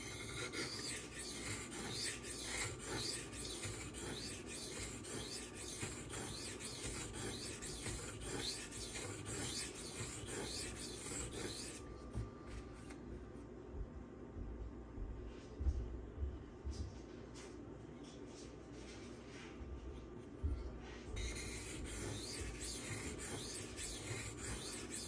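A Spyderco Manix knife with a CPM 15V steel blade is drawn across a sharpening stone along its bevel, giving steady close rasping strokes in a continuous rhythm, with a brief quieter pause partway through.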